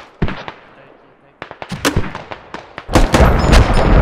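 Artillery and small-arms fire in the tactical military shooter Squad, 50 vs 50: sharp blasts and cracks scattered irregularly, thickening into dense continuous gunfire and explosions near the end, with voices talking over the battle.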